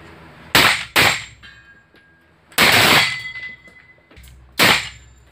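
Live rifle fire at a shooting practice range: four loud, sharp gunshots in separate bursts, two close together, then a pause and two more spaced apart, each ringing briefly before fading.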